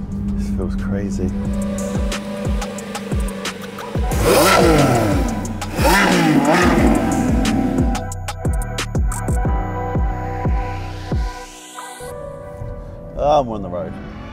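A Lamborghini Revuelto engine revs and accelerates on the road, rising in bursts with gear-change dips, loud and close, with people talking over it.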